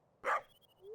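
A single short dog woof from the Stardew Valley farming video game sounds once, moderately loud, followed by a faint electronic tone and a rising game sound.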